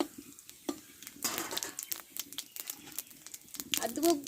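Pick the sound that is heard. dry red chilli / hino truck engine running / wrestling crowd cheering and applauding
dry red chilli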